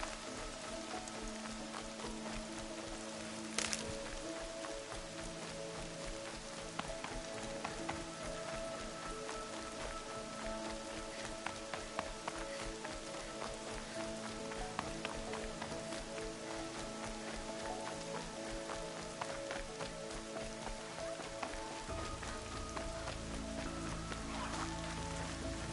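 Steady rain pours across the world of Horizon Zero Dawn, a dense, even hiss of drops on surfaces with faint low rumbles and game music underneath, continuous for the whole stretch with no talk.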